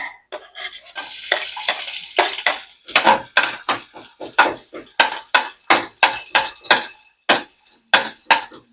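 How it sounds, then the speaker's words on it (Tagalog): A utensil scrapes and clanks rhythmically around a hot frying pan (kawali) during cooking of laing, steady repeated strokes close up, with some speech mixed in at the start. "Gamitan lang natin ang kawali."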